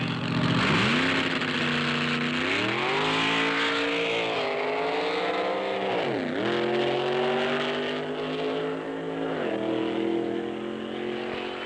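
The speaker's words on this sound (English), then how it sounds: "the factory experimental cars thrill the crowd as they lunge off the starting line and blast to" Factory experimental drag racing cars launch off the starting line with loud engines rising and falling in repeated surging revs, close and continuous.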